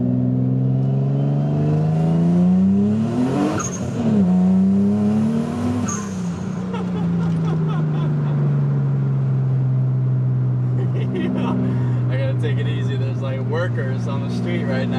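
An Infiniti G35 with boost accelerating hard in second gear on a street, the engine note climbing in long rising pulls with a brief dip between, loud and close from inside the car, with people talking over it.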